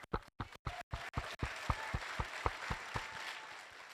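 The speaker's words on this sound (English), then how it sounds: "another round of applause for everybody." A junior high holiday concert audience claps for the performers, starting as a few sharp separated claps and swelling into steady applause with louder accents, moderately near.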